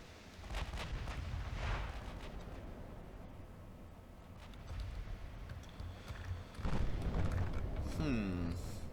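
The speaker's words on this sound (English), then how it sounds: "Our 8-inch guns are starting to open up" Eight-inch naval guns firing in the warship game Ultimate Admiral Dreadnoughts, heavy booms and rumbling blasts scattered across the stretch, partly under someone talking.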